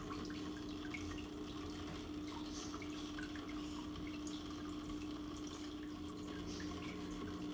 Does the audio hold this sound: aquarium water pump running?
yes